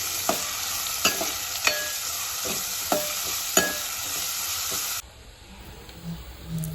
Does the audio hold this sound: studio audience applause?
no